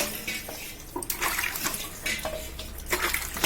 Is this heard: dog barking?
no